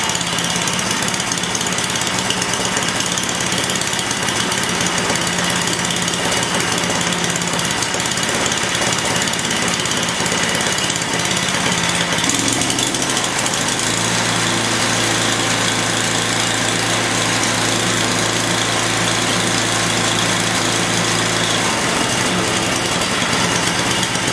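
An MTD Mastercraft snow blower engine warms up at steady idle, a loud, continuous small-engine drone close by that shifts to a deeper, rougher note about halfway through and holds there to the end.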